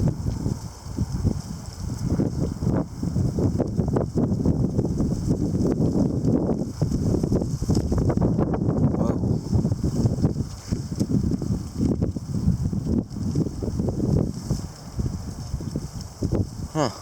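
Gusty wind buffets the microphone in rough, rumbling surges, rising and falling over a steady roar, with faint rustling in between.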